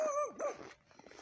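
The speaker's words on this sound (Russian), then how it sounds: "Не лай, собачка." A dog gives short whining, yelping barks, two strong tonal calls close together followed by softer whimpering sounds, close and fairly loud.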